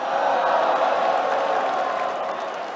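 A large crowd cheers and applauds at the SKT League of Legends Worlds winning ceremony, a dense continuous roar of clapping and shouts that stays loud throughout.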